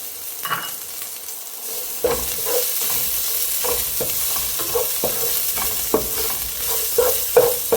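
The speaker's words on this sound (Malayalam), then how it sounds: "ഇനി നമുക്ക് ജിഞ്ചർ ഗാർലിക് പേസ്റ്റ് അതും കൂടി ഇട്ട് കൊടുക്കാം" Ginger garlic paste and green chillies frying in hot oil for ghee rice, a continuous close sizzle punctuated by regular scrapes and taps of a spoon stirring in the pan, with no voices.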